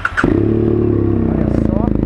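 BMW F800R motorcycle fitted with an Akrapovic exhaust and Atalla header starting up: a short starter whir, then the parallel-twin engine catches and settles into a loud, steady, throbbing idle close by.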